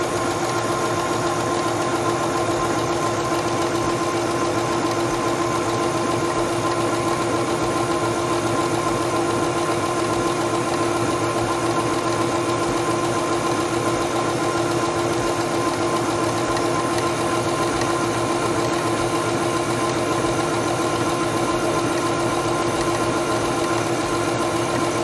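A quilting sewing machine runs continuously on fabric, a loud, close, even mechanical hum and rapid needle chatter holding steady for the whole stretch with no pauses or talking.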